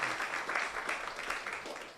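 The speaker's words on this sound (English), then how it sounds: "can you give a round of applause?" Audience applause at a finance conference, with dense, fairly quiet clapping that continues for the full two seconds.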